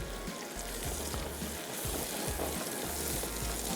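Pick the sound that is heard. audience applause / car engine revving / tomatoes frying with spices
tomatoes frying with spices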